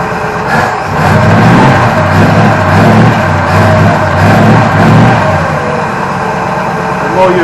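A Holden HQ Ute engine idles close by after sitting unused for seven or eight years, a steady low rumble with a faint uneven putter that holds throughout.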